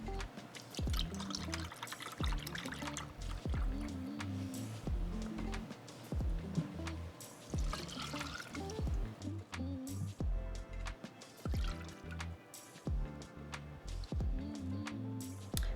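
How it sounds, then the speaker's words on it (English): Mineral oil poured into a container to make a cutting board conditioner, a long, steady glugging and trickling pour with intermittent splashes and soft clunks, close and fairly quiet, with no talk. "before we pour the oil in this, there we go"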